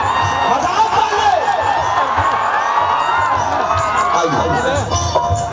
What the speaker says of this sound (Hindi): एक वर्षा जोरदार हल्ला करके ताली बजा दो